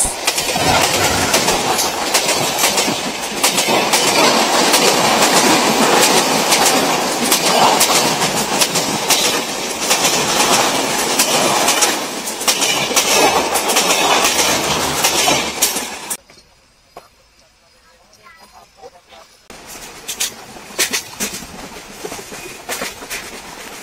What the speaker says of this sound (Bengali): উতলি রেলওয়ে স্টেশনে রূপসা এক্সপ্রেস ট্রেনের সাথে এই মুহূর্তে ক্রসিং হচ্ছে আন্তনগর সাগরদাড়ি এক্সপ্রেস